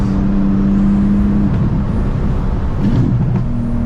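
A Porsche GT2 RS Weissach drives with a loud, steady engine drone heard from inside, the pitch climbing and dropping as it accelerates, with a constant road and wind rumble underneath.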